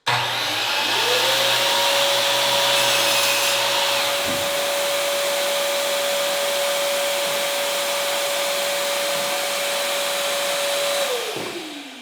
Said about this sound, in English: it's loud and it takes a minute for the vacuum to turn on